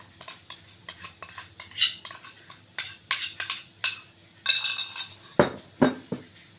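Flour being mixed in a bowl for naan dough, with a spoon tapping and clinking against the bowl in quick irregular bursts, close and fairly loud, with no talking.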